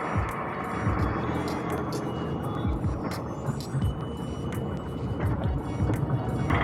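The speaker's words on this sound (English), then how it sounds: "So this is the 1000cc car that I am driving right now." A 1000cc Datsun Redi-Go, a 2021 facelift model, heard from inside the cabin while driving: a steady, continuous low engine and road rumble with tire noise, even in level, no voices.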